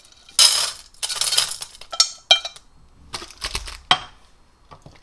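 Clattering and clinking of herbal skin-ointment ingredients, including angelica root, dropped into a metal pot, several bursts of knocks and scrapes with short gaps between them.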